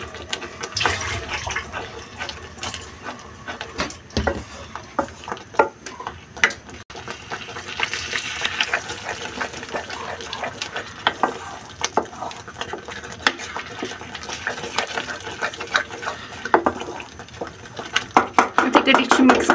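Masala for a Kashmiri tomato and egg dish (tamatar ti thool) being stirred and fried in a pan: repeated scraping and clinking strokes over a soft continuous sizzle, close and moderately loud throughout.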